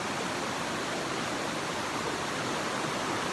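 A waterfall running with high water gives a steady, dense rushing roar, constant and unbroken, with no voices over it.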